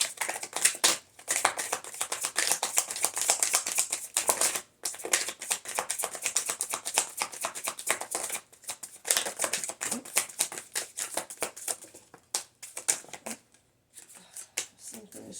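Tarot cards are riffled and shuffled over and over in quick, papery bursts, with brief pauses between rounds, close up.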